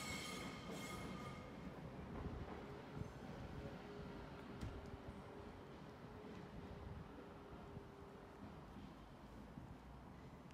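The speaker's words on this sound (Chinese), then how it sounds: "变咗佢火车埋站嗰时咧，就好多刹车声啊" A train pulls into a station in Watford, England, with metal wheels and brakes squealing over a steady rolling rumble, heard from nearby on the platform for about ten seconds.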